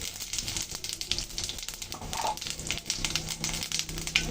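Whole cumin seeds are dropped into hot oil left over from frying fish, together with a dried red chilli and a bay leaf. A close, dense crackling sizzle pops irregularly and is heard alone.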